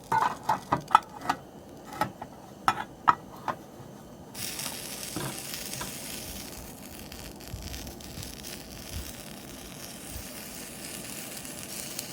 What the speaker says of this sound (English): I'm hearing sizzling, I'm smelling good smells from the pan.